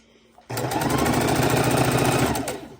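A sewing machine runs fast on a quilt in one loud, close burst of rapid stitching that starts abruptly after a quiet moment and lasts about two seconds.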